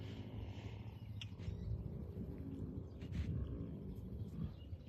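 Tigers at a wildcat sanctuary give low, rumbling grunts and roar-like vocalizations, fairly close and continuous over steady background rumble, with faint bird calls above.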